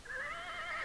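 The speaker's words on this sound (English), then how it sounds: "horse" A horse gives a short, close, high-pitched whinny lasting under a second, with no talking.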